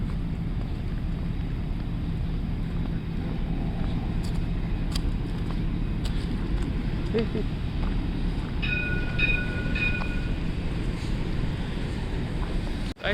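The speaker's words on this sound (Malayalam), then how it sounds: "ഇവിടുത്തെ ചെറിയ ട്രാം റെയിലാണ് ആ പുറകിലൂടെ വന്നുകൊണ്ടിരിക്കുന്നത്" A steady rumble of a tram rolling along rails in Bordeaux, France, with faint high squeals and clanks over a constant outdoor drone.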